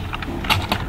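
Keys on a computer keyboard are struck in a handful of quick taps, close and fairly clear, with no voices.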